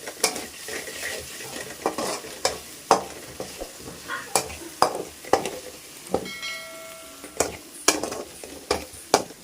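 Spices with turmeric and salt fry in oil in a pan for a festive crab curry, with a steady close sizzle broken by regular scraping stirs of a spoon against the pan.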